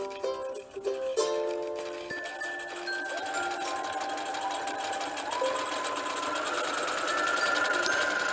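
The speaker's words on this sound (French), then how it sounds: "j'épingle pour tout simplement aller coudre à la machine" A sewing machine stitches a knit hat made from an old sweater, running with a steady rapid mechanical whir that holds at an even, fairly close level throughout, with no voices.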